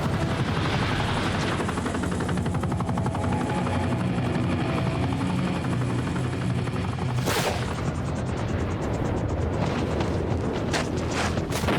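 Helicopter in the 2011 game Call of Duty: Modern Warfare 3, a loud, steady rotor roar throughout with bursts of gunfire and explosive blasts breaking in during the second half.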